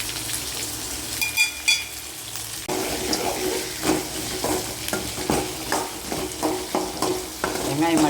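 Asafoetida, dried red chillies and onion fry in hot oil for a tamarind curry, sizzling as a spoon stirs and scrapes the pan in close, repeated strokes, preceded by a short burst of running water.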